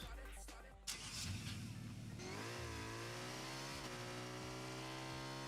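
A car engine in a rocket car ball video game revs up and holds a steady, buzzy drone with rising and settling pitch, fairly quiet overall, after a brief startup burst.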